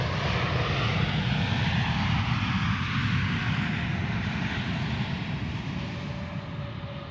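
An Edelweiss airliner on final approach to runway 14 at Zurich Airport, its engines making a steady, loud broadband roar that fades slightly toward the end, with no talk.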